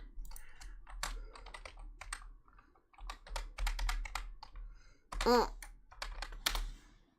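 Computer keyboard typing in irregular bursts of quick, crisp key clicks, heard close and fairly quiet, with brief pauses between flurries and a short faint vocal noise near the middle.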